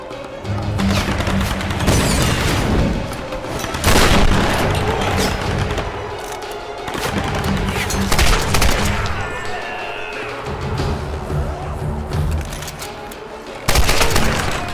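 Rapid bursts of gunfire in Tomb Raider Definitive Edition, loud and close, with shotgun blasts, repeated volleys, crashes and booms in a chaotic battle.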